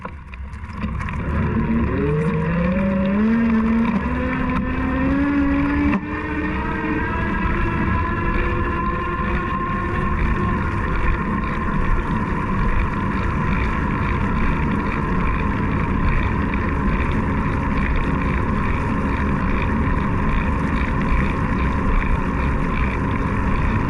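Propella 3.0 seven-speed electric bike with its motor at pedal assist level 5, heard while riding: a steady loud whir with a tone that climbs as speed builds, then holds under constant wind rush.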